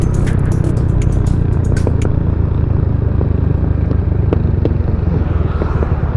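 A Skydrive 160cc motorcycle with its stock carburetor running hard at full throttle, a loud steady engine drone with wind rush and a few brief clicks and rattles, close-up with no talk.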